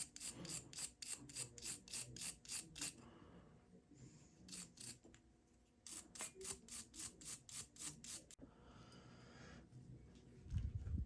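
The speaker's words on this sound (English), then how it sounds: "I cleaned up these terminals a little bit, just kind of wire brushed it" Rapid rhythmic scratching strokes of a wire brush scrubbing electrical terminals on a Harley-Davidson SX250 motorcycle, in several quick bursts of back-and-forth scrubbing separated by brief pauses, close and crisp, no talking.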